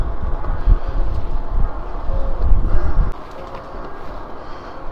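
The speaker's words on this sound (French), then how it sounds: "Et là, c'est les corbeaux." Crows call out over loud, rumbling outdoor noise near Cernay in Alsace, dropping to a quieter background partway through; no talking.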